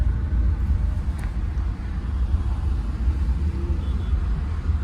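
A car idles and creeps through heavy city traffic, a steady low engine and road rumble filling the cabin from start to finish with no clear horns or pauses.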